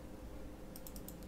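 Typing on a computer keyboard while entering a formula into an Excel spreadsheet: a few quick, faint keystroke clicks near the end over a steady low hum.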